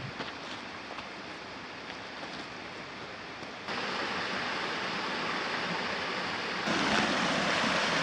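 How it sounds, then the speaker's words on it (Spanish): Cascading water from waterfalls along a steep mountain trail gives off a steady, full rushing roar. The sound is continuous and close, and it grows louder in two steps partway through. No one speaks. "Mirad qué pasada las cascadas"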